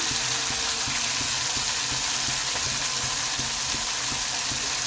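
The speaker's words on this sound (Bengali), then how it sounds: "ভালো করে মশলাটাকে কষিয়ে নেব" Spice masala with cashew and tomato being sautéed in a pan for a yardlong bean dish, a loud, even sizzle with soft regular scraping of the spoon against the pan.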